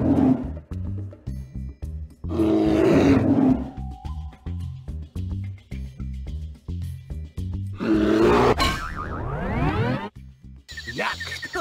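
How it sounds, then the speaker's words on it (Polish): In the Madagascar video game, a sound pole blares a loud, tonal mechanical noise in repeating pulses, with roaring bursts and a sweeping, boing-like swoop near the end. "To dźwiękowa tyczka robi taki hałas, czy co?"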